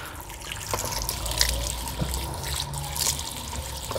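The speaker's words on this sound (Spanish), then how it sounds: "Vamos a ver si todavía existe agua aquí." Hot water runs from an old original tap at the former hacienda La Calera and splashes as someone washes their face, a steady close trickle with scattered splashes and drips.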